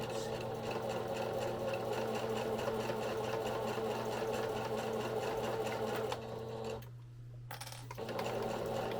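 Sewing machine running a slow straight stitch through fabric for a small keychain, a steady close mechanical whir with rapid needle clatter that dips briefly near the end before resuming.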